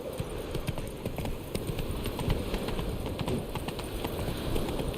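Hoofbeats of Roach the horse in The Witcher 3, a steady rapid clip-clop of galloping hooves running continuously under a soft ambient bed.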